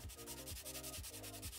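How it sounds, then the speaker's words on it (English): Thin wooden strips for a laminated slingshot are sanded on their edges, heard as quick rhythmic back-and-forth rasping strokes, about three or four passes, close and fairly quiet with no talking. "We will have to sand these edges and make them flat enough for gluing."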